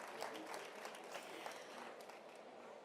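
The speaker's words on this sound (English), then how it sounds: "a big round of applause to our panelists before we start into our conversation" An audience applauds panelists at a high-level climate implementation event, a continuous, moderately distant clapping that holds steady for a few seconds.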